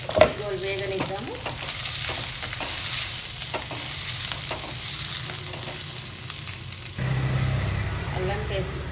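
Green chillies and onion sizzle and fry in a pan for a tomato curry, a steady close crackle with occasional stirring scrapes, and a voice speaks briefly near the start.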